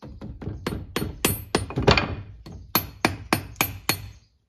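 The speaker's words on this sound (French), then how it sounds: "Peut-être un petit coup de marteau que ça va l'aider un peu." A hammer taps a kick-start lever onto a Derbi 50 moped engine (Euro 3) during reassembly, about a dozen sharp metallic blows in an uneven rhythm, close and loud, with no talking.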